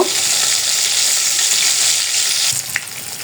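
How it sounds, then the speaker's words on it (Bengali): Pieces of broiler farm chicken fry in hot oil with a loud, continuous sizzling hiss, then a brief stir or clatter near the end. "ফার্মের মুরগিটা ভাজা হোক করে ভেজে নিব"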